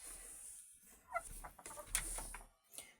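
Hens in a backyard coop cluck softly in a few short, scattered bursts against a quiet background, fairly close and with no talking.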